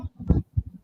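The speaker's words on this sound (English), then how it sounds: "What was that? That was my phone." A phone vibrating nearby gives a few short, low buzzing pulses in a quick uneven burst lasting under a second, with no voices.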